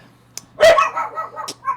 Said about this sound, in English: we have dogs barking